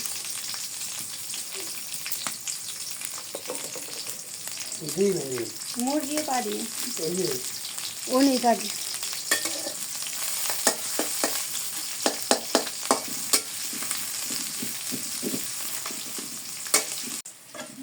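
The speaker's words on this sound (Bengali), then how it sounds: "মিষ্টি লাউ ভাজি করবার জন্য আমি কড়াইতে তেল দিয়ে দিই পেঁয়াজ দিয়ে দিই" Onion sizzles loudly in hot oil in a wok for a sweet gourd fry, a constant crackling hiss with stirring clicks and someone talking over it.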